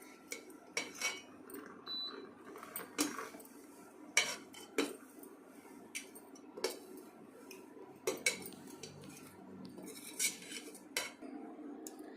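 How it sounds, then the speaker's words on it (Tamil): A spoon scrapes and taps against a cooking pan while a tomato curry with chilli powder, salt and garlic is stirred, giving irregular metallic knocks every second or so over a soft sizzle. "நம்ம இப்போ ஒரு கலக்கி விட்டுக்கலாம்"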